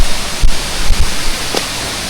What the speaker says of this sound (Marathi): जंगल आहे आणि पाण्याचा ओढा खूप जोरात आहे वाहत आहे.